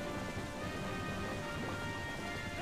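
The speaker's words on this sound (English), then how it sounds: "it started raining" Steady, dense rainfall fills the scene in The Legend of Zelda: Twilight Princess, an unbroken wash of hiss with no voices over it.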